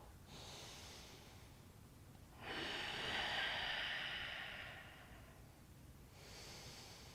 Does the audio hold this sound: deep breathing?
yes